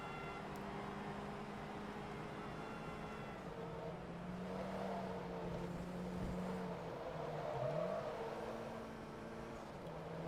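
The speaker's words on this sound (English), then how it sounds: "God, the turbo is so laggy in this car." A turbocharged Volkswagen GTI Mark V with an added turbo and camshafts drives in Forza Motorsport 2, its engine droning steadily and rising and falling in pitch through gear changes, heard alone without speech.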